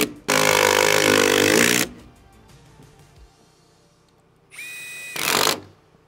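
A power tool, probably a drill or impact driver, fastens a framed wall's bottom plate to the floor in two bursts. The first is a loud sustained whir of about a second and a half, then a quieter pause, then a shorter burst.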